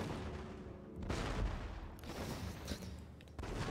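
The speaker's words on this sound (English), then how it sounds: "Boy, do I love the sound of gunfire in this game." Gunfire from the video game Total War: Fall of the Samurai: quiet, rumbling volleys and scattered shots overlap in several bursts, with no talk.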